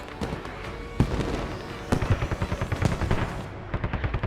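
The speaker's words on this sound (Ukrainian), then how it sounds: "Кулемет відпрацьовує по лавці." Machine gun fire in the tactical shooter Squad during a competitive tournament match: sharp bursts of rapid shots with heavy reports, one near the start and one near the middle, then a steady rattling volley, loud and close.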